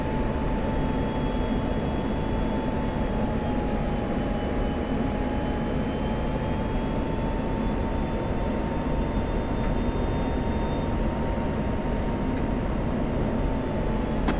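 An F-16 jet engine roars through a sustained tight turn in the DCS flight simulator, a loud, unbroken rumble with a faint whining tone that drifts slightly in pitch throughout.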